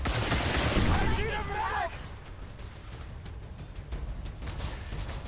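Gunfire in the video game XCOM 2, a dense rattling burst of shots in the opening two seconds that gives way to a quieter rumbling background, loud and close.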